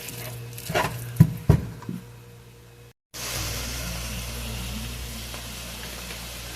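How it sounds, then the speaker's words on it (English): Ground beef frying in a pan at home, with a few clattering knocks early on, then a brief pause before a steady, even sizzle carries on to the end. "I'm going to go ahead and finish cooking up this ground beef"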